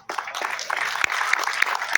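Audience applause at a Hindi comic poetry gathering, a steady wash of clapping from a crowd that sustains for two seconds with a few sharper claps standing out near the front.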